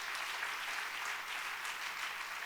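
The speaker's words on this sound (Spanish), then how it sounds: "dele ese aplauso si usted quiere." A church congregation applauds during a sermon with a sustained, even wash of clapping that holds at a steady, moderately distant level throughout.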